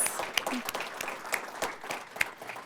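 An audience applauds the Spring 2020 cohort of LEAP apprentices at a signing ceremony, moderate clapping with scattered sharper individual claps, somewhat distant and fairly quiet.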